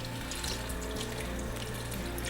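Vegetable stock pours into a pan already holding carrot, potatoes, evaporated milk and coconut cream, a steady liquid rush close by and alone for about two seconds, with no talk.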